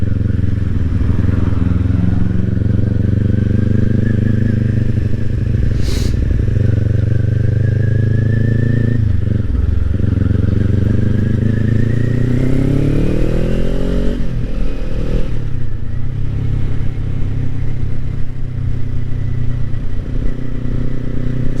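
Kawasaki Ninja 400 sport motorcycle being ridden, its engine droning loudly and steadily throughout with rising and falling revs through gear changes, plus wind rush close to the rider.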